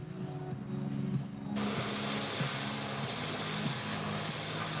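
Airbrush spraying paint at high air pressure, up close: a steady hiss that opens up into a louder, broad, continuous spray after about a second and a half, over a low compressor hum, with no talking.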